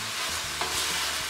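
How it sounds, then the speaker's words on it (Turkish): Onions with red kapya and green peppers frying in a pan for a meat and dried bean stew, a steady broadband sizzle with a few soft stirring scrapes and clicks, close and continuous with no talking. "Soğanları kavurduk. Üzerine hemen kapya biberi ve yeşil biberlerimizi ekliyorum."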